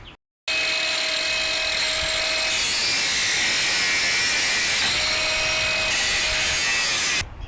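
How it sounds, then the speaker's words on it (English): An angle grinder trims a long metal part during removal of an XF Falcon engine, a loud continuous high whining grind lasting several seconds after a brief quiet start, cutting off at the end. "Do we just get an angle grind and just trim them?"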